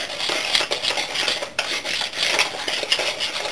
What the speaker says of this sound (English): I'm just going to add this to the butter, and then we're just going to whisk it together